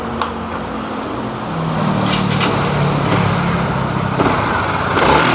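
A Honda New CB150R motorcycle engine starts and settles into a steady, rough running idle nearby, growing slightly louder partway through, with no talking.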